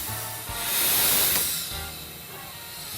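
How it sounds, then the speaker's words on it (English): A homemade steam car building pressure gives off a broad, steady hiss that swells loudly in the middle and then eases back, with a low rumble underneath. "Five minutes, we got steam."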